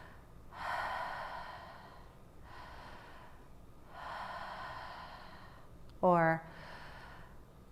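Breathing during a conscious connected breath exercise: three long, airy breaths rise and fall in an even rhythm close to the ear, broken by a brief spoken word between them.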